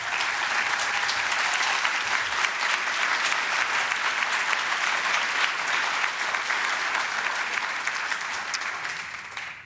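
Audience applause at a 2013 public talk honoring a congressman, a dense steady wash of clapping hands that stays loud and even for nearly ten seconds before easing slightly at the end.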